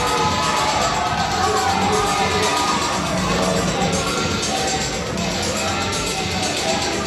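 A wrestling crowd in Des Moines roars with cheers and shouts, a dense, continuous wash of noise that holds loud throughout.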